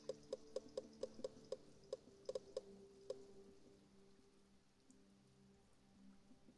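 Rain in the video game Sheltered: faint, sparse drips ticking irregularly over the first few seconds, then fading into a quiet, steady background hush.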